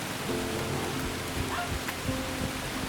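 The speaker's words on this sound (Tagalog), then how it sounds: "Nabutan na kami ng ulan." Rain begins falling outdoors at a construction site, a dense, even hiss of drops with faint patters throughout and no voices.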